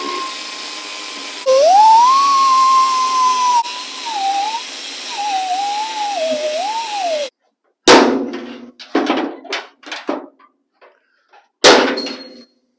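A cutoff wheel grinds against rusted truck bed bolts on a 1985 GMC Sierra squarebody pickup, a loud whining screech that rises and falls in pitch for several seconds, then stops, followed by a few sharp bursts and clanks.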